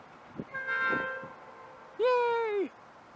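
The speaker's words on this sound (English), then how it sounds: "And this is just 2 locomotives." A pair of train locomotives in a rail yard sound two horn blasts: a longer tonal toot with faint clanks, then a second shorter blast that bends in pitch, both at moderate distance.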